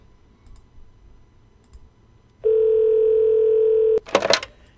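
A dial tone from a phone call in a basketball video game holds steady for about a second and a half, then breaks into a short burst of clicks and rattles as the call connects.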